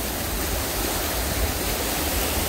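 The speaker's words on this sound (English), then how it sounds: "Is this a beautiful fountain?" A large outdoor fountain near Red Square in Moscow gives a steady, loud, full rush of falling and splashing water that hardly changes, filling the whole stretch with no talk.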